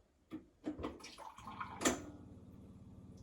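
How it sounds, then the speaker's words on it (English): Water runs briefly from the cold and hot spouts of an Avalon A4 water cooler into a cup, with a few clicks and knocks from the dispenser, then a low steady hum continues. "test by dispensing a little bit of water with the cold and the hot side"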